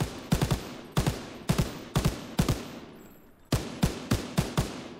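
Rapid bursts of LMG machine-gun fire in a World War II shooter game, loud sharp reports in short groups of two to four shots with brief pauses between each burst.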